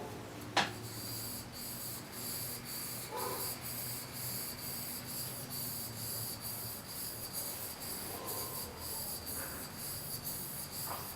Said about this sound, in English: I'm honing a whole lot more on this right side than over here on this left side